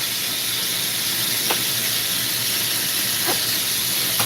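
Steady hiss of a glassblowing torch flame while a party bowl is shaped, a constant bright rush with two brief faint squeaks over the top.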